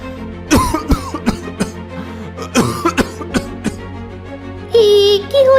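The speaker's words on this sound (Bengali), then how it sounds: "আপনি কাশছেন কেন?" Several harsh coughs from one person come in loose bursts, some doubled, with throat clearing between them and a brief strained vocal sound near the end, close and fairly loud in an indoor setting.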